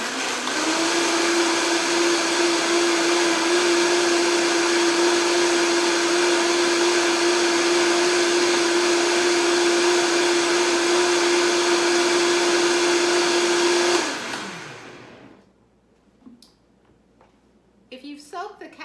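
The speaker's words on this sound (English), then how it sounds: "I'm going to blend it." A blender runs at high speed through a batch of soaked cashews with onion powder, garlic powder, salt and cornstarch, a loud steady whirring drone that holds for about fourteen seconds, then cuts off and winds down into quiet.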